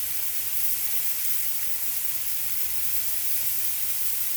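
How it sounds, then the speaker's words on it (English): Vegetables sauté in a pan for a tomato sauce, giving a steady, even sizzle and hiss that runs unbroken throughout at moderate loudness, with no voices. "While the vegetables are sauteing, we're going to go ahead and lay out our cheesecloth"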